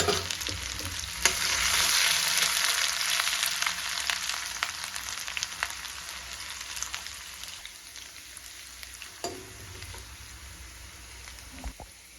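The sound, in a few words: ginger, garlic and curry leaves frying in oil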